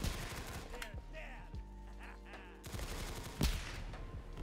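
Rapid bursts of gunfire from a gun in a Roblox shooting game ring out in quick volleys, with a loud single crack near the end, over a busy game backdrop of music and effects.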